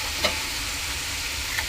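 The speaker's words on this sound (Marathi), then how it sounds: "याला आपण मिक्स करून घेऊया" Soaked moong dal, peanuts and ridge gourd are stirred in a hot pan, giving a steady low sizzle with two soft spoon scrapes, close and without talk.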